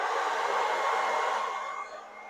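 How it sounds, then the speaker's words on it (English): A small handheld electric leaf blower whirs with a steady, close, loud rush of air that eases off slightly near the end. "it's a small handheld blower, but it really does have some cool power"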